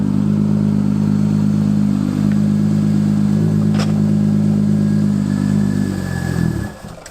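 An Audi S4 engine idling cold just after starting, a close, steady low rumble with a fine mechanical clatter running for several seconds before it cuts off abruptly near the end.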